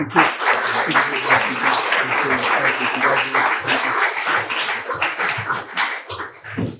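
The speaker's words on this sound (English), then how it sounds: "let's give them all one more round of applause" A crowd applauding steadily, dense clapping throughout that holds fairly loud and then begins to thin slightly near the end.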